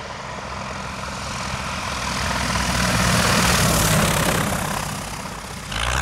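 Small propeller airplane going around from a landing approach, its engine a loud steady roar that swells toward the middle and eases slightly at the end, heard close from the cockpit.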